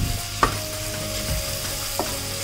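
Onions sautéing in oil in a pan for chicken biryani, a steady close sizzle with a couple of brief stirring scrapes.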